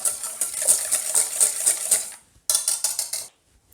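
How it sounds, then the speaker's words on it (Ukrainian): Eggs with salt and oil being whisked in a bowl: a fast, steady run of bright metallic clinks as the wire whisk strikes the sides, pausing briefly before a shorter burst, close and with no talk. "Збиваємо вінчиком до однорідної консистенції."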